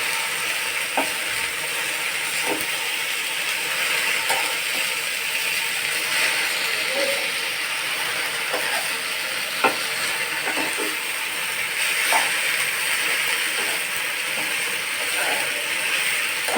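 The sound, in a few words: slit green chilies frying with jute leaves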